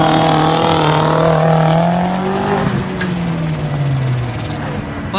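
A 2000 Lincoln LS accelerating hard on an empty abandoned road for an all-wheel-drive pull, its engine note climbing loudly and steadily up close with a slight dip midway, while people talk faintly over it.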